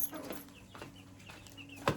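A roughly ten-year-old hen gives soft, quiet clucks in a short, close, low-level stretch, ending with one slightly louder note.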